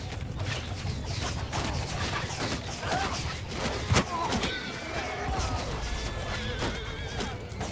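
Cavalry horses neigh and whinny amid a chaotic Mount & Blade II Bannerlord battle, the calls rising over a dense wash of hooves, clashes and shouting, with one sharp crash near the middle.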